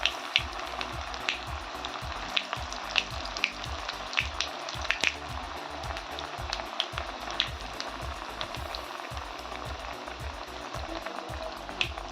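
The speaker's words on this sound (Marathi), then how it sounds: "तर हे बघा आपलं तेल छान तापलंय टाकूया आपण वडी" Crispy vada made from a wild village vegetable fries in hot oil over a low flame, giving a continuous crackling sizzle dotted with sharp pops close by.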